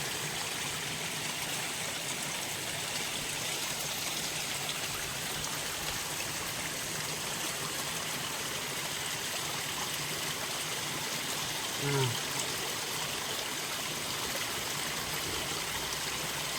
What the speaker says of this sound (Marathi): जंगलातून पाणी पाजरून येते ते पाणी पिणार आहे